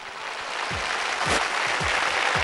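A studio audience on a Telugu television game show claps together, the applause swelling steadily into a dense, loud wash with a few sharper individual claps standing out, and no talk.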